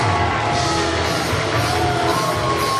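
A wrestling crowd cheering and shouting for newly crowned tag team champions at an Explosive Pro Wrestling event, a loud, steady wash of voices and whoops sustained throughout.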